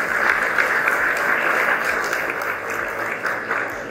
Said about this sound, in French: je veux que nous applaudissons pour nous.